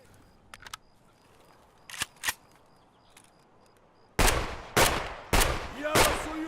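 Gunfire in the tactical shooter Escape From Tarkov: a few faint distant cracks first, then four loud, close, sharp shots fired in a steady rhythm, each ringing briefly before the next.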